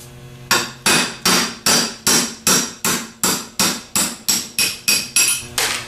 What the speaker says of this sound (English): We're going to take a 12 millimeter quarter inch drive and drive out the bushing on the nose cone.